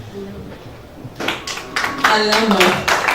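Audience applause breaks out at a formal courtesy visit of the ICAN president, starting after a second of quiet and building into dense, close clapping that grows louder toward the end.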